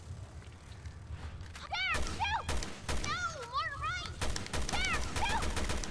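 Assault rifle bursts in the video game Resident Evil Revelations 2, sharp repeated cracks in short volleys over a constant game ambience, with warbling electronic tones sweeping between the shots.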